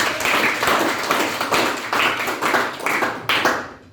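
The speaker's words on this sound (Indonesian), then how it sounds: "100, tepuk tangan" Students in a classroom at a military law school clap in unison in short, rhythmic bursts, about two per second, close and loud, each burst ending sharply.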